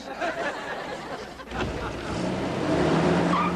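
A pickup truck engine runs steadily as the truck drives, the low motor drone getting a bit louder and fuller in the second half, with no talk over it.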